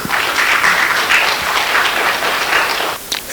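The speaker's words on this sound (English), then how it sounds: "with a round of applause." A hall audience gives a loud, dense round of applause to welcome an institute's acting director; continuous close clapping that holds steady and dips briefly near the end.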